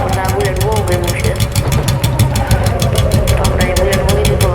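A Bullet motorcycle idles at a showroom, its single-cylinder engine thumping in a fast, even rhythm close by, loud and continuous the whole time.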